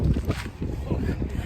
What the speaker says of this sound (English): Like mad windy out here.